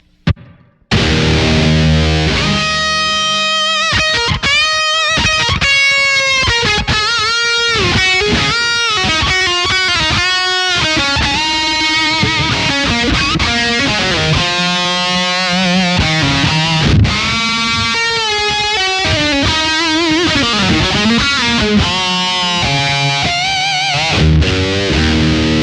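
Heavy electric guitar through overdrive, delay and reverb, routed by a Free The Tone ARC-53M controller, plays loud distorted chords and riffs, with echoing repeats and a spacious reverberant tail, no voices.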